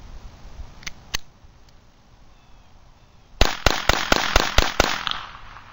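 A Beretta 21A pistol fires Federal Champion rounds: two isolated sharp cracks, a pause, then a rapid string of about seven loud, evenly spaced shots close by.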